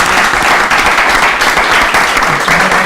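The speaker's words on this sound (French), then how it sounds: "On peut applaudir le public" Audience applause at a library festival: a dense, loud burst of clapping from a crowd, sustained and even for a few seconds, close and full.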